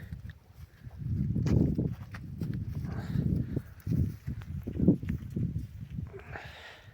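A mare walks on a farm, her hooves giving an irregular series of muffled clops and footfalls close by, with soft shuffling between steps and no talking.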